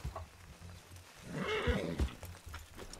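A horse in RedM, a Wild West roleplay game, lets out a loud whinny near the middle, over steady hoof clip-clops and faint background sound.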